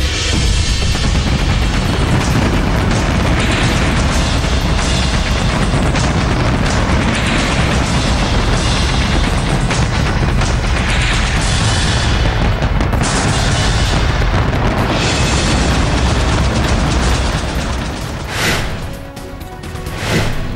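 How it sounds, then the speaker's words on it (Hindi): A huge New Year fireworks display in Dubai pounds away nonstop, dense overlapping booms and crackling bursts forming a loud, continuous barrage that dips briefly near the end before resuming. "नए साल के स्वागत में 6 मिनट में 4 लाख से ज्यादा आतिशबाजी हुई।"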